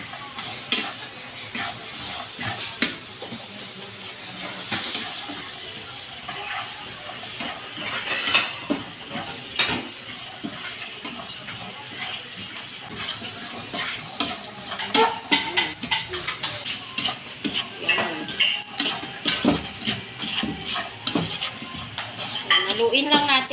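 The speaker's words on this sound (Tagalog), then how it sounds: "Haluin lang natin guys hanggang sa matunaw yung sugar." A utensil scrapes and stirs melting sugar and butter in a pan, with a steady sizzle, repeated clinks and scraping strokes against the metal, and a voice talking over the cooking.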